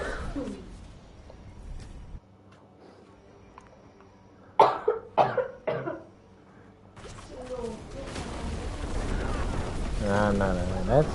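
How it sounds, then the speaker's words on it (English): A short burst of several exaggerated coughs in quick succession, near and loud, between stretches of talking. "No, that's fake cough."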